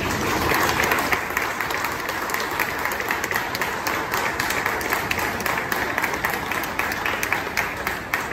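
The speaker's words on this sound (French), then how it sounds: "je pense que ça mérite une bonne main d'applaudissement" Steady applause from an audience at a press conference launching a season, dense clapping sustained evenly for the whole stretch at a moderate level with no voices over it.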